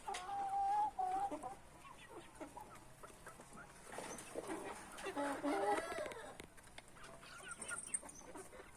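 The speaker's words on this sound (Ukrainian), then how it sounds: "Це були кури" Several chickens cluck and squawk close by, with busy overlapping calls and a few sharper cries rising above the outdoor background.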